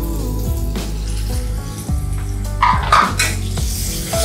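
Masala spices frying in oil for a bitter gourd and tangra fish curry, a steady close sizzle with occasional stirring scrapes, heard over background music, with no talking.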